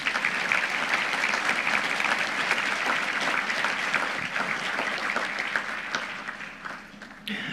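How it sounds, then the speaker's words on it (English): A banquet audience at an annual membership meeting at the Fredonia Hotel claps in a dense, sustained round of applause that tapers slightly toward the end, loud and continuous. "Let's give them a round of applause."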